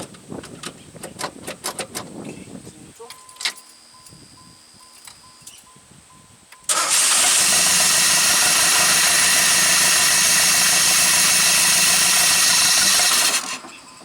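A 1984 Pontiac Fiero engine, running rough with a skipping misfire and a weak battery, cranks with clattering mechanical noise before catching and roaring into a loud, steady, close-up run that holds for several seconds before cutting off.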